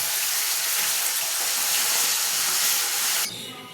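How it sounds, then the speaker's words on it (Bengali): Hilsa fish heads frying in oil in a kadai give a loud, steady, close hiss of sizzling that drops off sharply just before the end. "ভালো করে ভেজে নিতে হবে। বড় মাথা তো দুটো দুটো করে ভাজা"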